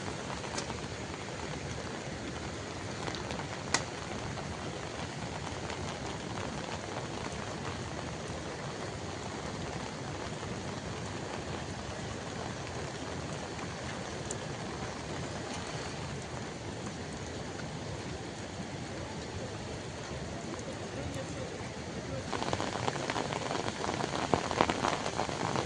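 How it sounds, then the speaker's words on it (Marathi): Heavy monsoon rain pours steadily over rice paddy fields in the Konkan countryside, a dense, constant hiss of drops on surfaces that builds slightly louder near the end, with no voices. "बेकार पाऊस आहे, भयंकर पाऊस आहे आज."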